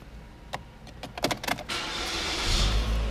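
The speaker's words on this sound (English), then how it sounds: "Car fires right up." A Chevrolet Cruze cranks and fires up after a few interior clicks and button presses, settling into a steady idle that is close and fairly loud with no talking.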